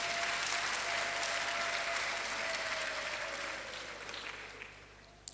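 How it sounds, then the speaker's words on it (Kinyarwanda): An audience at a church pastor's installation ceremony in a hotel claps in steady, sustained applause that slowly thins out toward the end. "Mwamfasha tugakomitira Imana amashyi yanshoboje."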